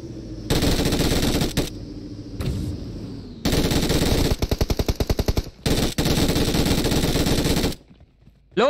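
Machine gun fire in the PUBG video game comes in long, loud, sustained bursts of rapid shots, with brief gaps between volleys and one stretch of distinctly separated rounds, with no talking over it.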